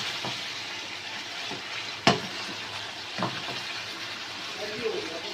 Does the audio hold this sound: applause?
no